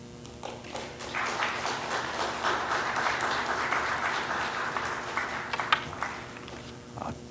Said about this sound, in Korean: 여러분 큰 박수로 맞아주시면 고맙겠습니다.